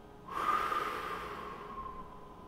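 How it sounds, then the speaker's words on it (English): A single deep breath drawn in sharply and then let out slowly, close and quiet, with no talking, during a calm relaxation exercise. "we take a deep breath in, and when we breathe out, we relax our feet"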